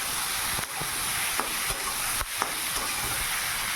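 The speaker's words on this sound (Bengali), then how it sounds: "আলু দিয়ে ভালো করে লবণ, হলুদ, লঙ্কা দিয়ে ভালো করে কষিয়ে নেব" Tomatoes and potatoes frying with salt, turmeric and chili in a pan, a constant loud sizzle broken by repeated scraping strokes of a spatula.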